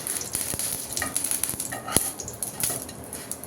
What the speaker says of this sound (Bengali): হালকা তেল দিয়ে পরোটা ভেজে দিচ্ছি।